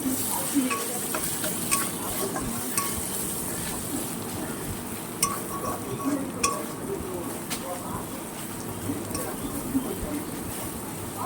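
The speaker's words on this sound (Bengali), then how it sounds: "এটাকে ভালো করে ভেজে নেব" Whole cumin and ginger paste frying for khichdi, giving a steady close sizzle with occasional light stirring clicks and utensil taps across the whole stretch.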